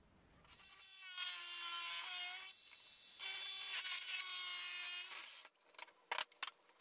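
A jigsaw cuts out unneeded parts of a wooden shelf for a closed hi-fi equipment rack, a loud buzzing motor whine with a few pitch shifts, pausing briefly and ending in clattering taps.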